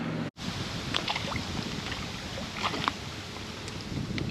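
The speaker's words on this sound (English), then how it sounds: "I hear a boat motor, my least favorite noise" A boat motor runs on a lake as a faint, distant drone, largely buried under gusty wind buffeting the microphone, with a few light splashes.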